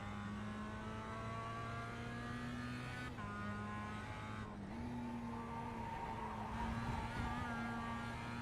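A Mazda MX5 in a racing video game lapping Zandvoort, its engine holding a steady buzzing drone that dips and climbs through gear changes, with hints of tyre scrub, continuous and up close without voices.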